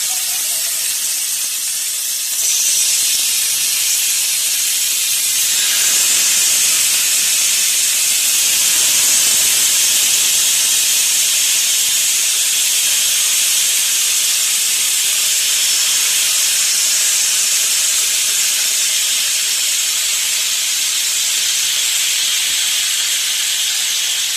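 Steam hisses loudly and steadily from a steamer pot roasting spicy chicken wings, a continuous bright, airy rush that swells slightly after the first few seconds and never stops, with no talking.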